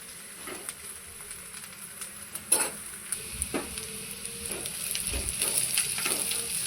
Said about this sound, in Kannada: ಇದನ್ನು ಚೆನ್ನಾಗಿ ಫ್ರೈ ಮಾಡ್ಕೊತಾ ಇದ್ದೀನಿ.